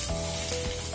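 Ginger fries in hot coconut oil with a pinch of fennel seeds, making a continuous, close, bright sizzle with faint crackles for about a second.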